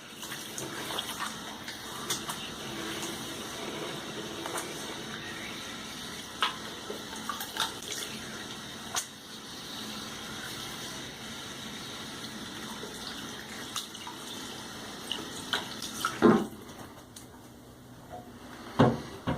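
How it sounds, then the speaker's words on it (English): Tap water running for a quick rinse before a head shave, a steady soft splashing hiss with a few louder splashes and knocks near the end. "I'm just going to do a quick rinse, lather up."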